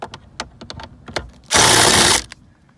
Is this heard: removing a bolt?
yes